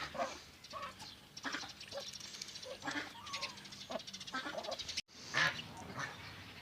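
Domestic ducks, including Muscovy ducks, quacking and geese honking in a busy, overlapping chorus, close by, with a brief gap near the end before the calls resume.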